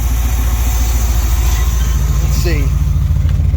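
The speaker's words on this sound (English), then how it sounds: "So here's it running. Let's see if she'll idle for you." A street van engine idling nearby, a low, steady, rhythmic rumble throbbing evenly throughout, with someone talking briefly over it.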